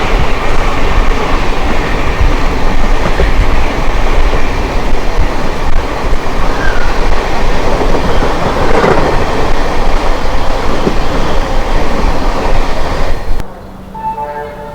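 The Kanchenjunga Express, Sabroom to Sealdah, rumbles past loud and close with continuous wheel clatter and rail roar for about thirteen seconds, then cuts abruptly to a quieter interior hum.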